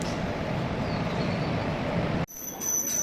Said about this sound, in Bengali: অপর প্রান্ত থেকে একটি ট্রেনও দেখলাম প্ল্যাটফর্মে ঢুকছে